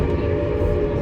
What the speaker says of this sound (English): that warning whistle means we are approaching the Devil's Gate boarding area